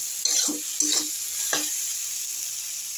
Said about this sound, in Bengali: দিয়ে এটাকে একটু নাড়াচাড়া করবো